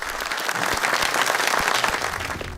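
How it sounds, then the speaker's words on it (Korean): A roomful of people applauding, dense overlapping claps building into a full, steady roar that holds for a few seconds with a few low thuds underneath. "자, 그럼 박수만 남았네요."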